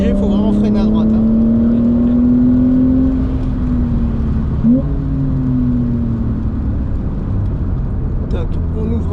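A Porsche race car runs on a circuit at steady engine drone, with the pitch rising and then falling away as the driver brakes for a right-hand corner. A voice talks over the engine throughout.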